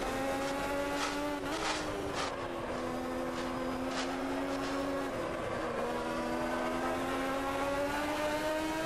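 Race car engine in the Automobilista 2 driving game, a sustained high droning note that holds steady with slight pitch dips and shifts, alongside faint clicking ticks early on, moderately loud and continuous.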